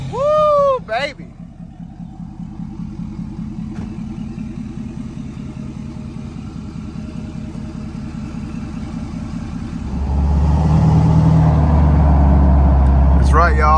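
A Ford Powerstroke diesel truck's engine runs steadily on its first test drive after a parts install, then swells into a louder, deeper rev near the end, with brief voices at the start and finish.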